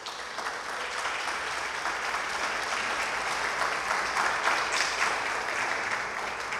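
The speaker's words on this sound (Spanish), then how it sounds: "Para ello, un fuerte aplauso, por favor." Sustained crowd applause at an International Women's Day tribute ceremony of the Colegio de Ingenieros del Perú, an even, dense clapping texture holding steady throughout with no voices on top.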